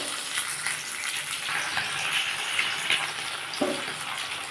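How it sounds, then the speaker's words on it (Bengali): Fish frying in hot oil in a home kitchen pan, a steady close crackling sizzle that runs throughout, with a few sharper pops and spatters and no talk over it. "বাকি মাছগুলো বন্ধুরা আমি এইভাবে ভেজে নেবো"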